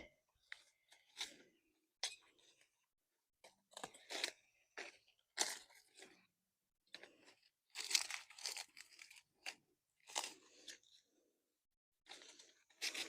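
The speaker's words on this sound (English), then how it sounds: "just going to cut off this whole section" Garden plants being cut back, with sharp crisp snips and crunching tears of stems repeating irregularly, close by and fairly quiet, separated by silent gaps.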